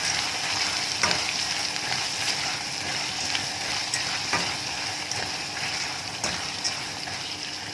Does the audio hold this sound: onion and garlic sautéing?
yes